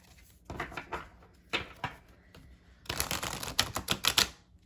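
A deck of tarot cards is shuffled in several short riffling bursts of crisp, close flapping and clicking, with pauses between them and a longer, busier burst near the end.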